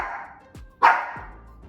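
A dog barks a few short times nearby, one sharp bark standing out among softer yips in a quiet kitchen as it begs for another carrot.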